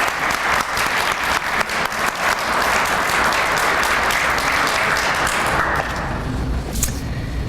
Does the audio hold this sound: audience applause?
yes